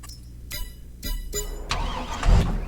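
A tractor engine in the farming game Farming Simulator 22 starts and settles into a mid-pitched idle, with a few sharp mechanical clunks and a swell of engine noise toward the end.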